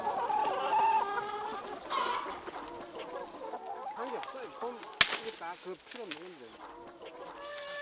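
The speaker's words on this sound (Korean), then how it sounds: "닭들이 이렇게 정말 모래 목욕하면서 행복해하는 게 제일 행복한" Hens on a mountain farm near Jirisan cluck and murmur contentedly while dust-bathing in sand, a loud close chorus that fades to softer calls, with a person speaking over it.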